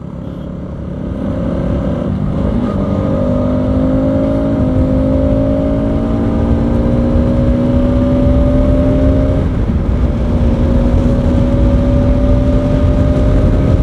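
A motorcycle accelerates hard at high speed, its loud, close engine note climbing steadily in pitch through the gears over rushing wind noise, with no talking.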